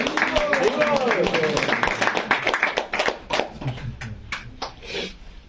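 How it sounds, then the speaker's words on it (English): Applause from an audience at a spiritual talk on Krishna, a burst of many hands clapping densely at first, then thinning into scattered claps that fade out over a few seconds. "let's give a round of applause for yourself for"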